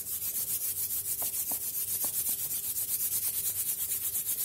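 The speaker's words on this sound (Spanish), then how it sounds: "Lo primero que te invito a hacer es frotar las manos." Hands rub together vigorously in a steady, continuous dry friction with a brisk back-and-forth rhythm, close and fairly loud, with no voices.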